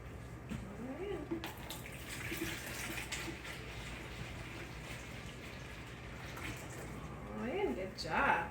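Liquid pours steadily into a pitcher during home canning of white grape juice, a continuous close splashing rush that runs the whole time under soft talk and swells slightly toward the end.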